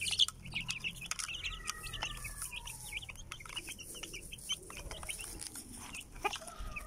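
Several chickens cluck and chatter close by, with busy overlapping calls and a few louder squawks over a quiet outdoor background.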